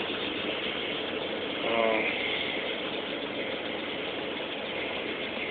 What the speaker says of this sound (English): And I start it up. It's a cold start.